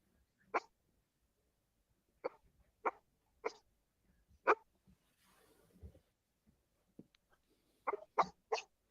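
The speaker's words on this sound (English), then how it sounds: "Yeah, I hear the dog" A dog barks in short, sharp single yaps spaced irregularly, close and fairly loud, with a brief patch of soft rustling noise in the middle and no talking.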